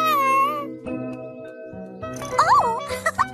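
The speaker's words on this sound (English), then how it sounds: "Oh, it's my little kitty Figaro" A cartoon cat lets out a few drawn-out, warbling meows in a bright animated kids' show, close and clear over light background music.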